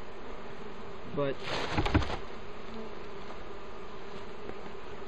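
Bees buzz around a top bar hive, a steady insect drone with a brief louder burst of close wings passing near, and a short spoken word partway through.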